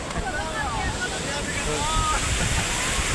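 Waves wash continuously onto Pambal beach, a steady broad surf roar with some wind, while a person talks over it.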